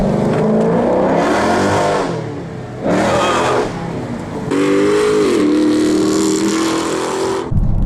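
A Dodge Charger Scat Pack V8 with mid mufflers deleted roars through three loud full-throttle pulls, each rising in pitch before easing off briefly, close and without talk.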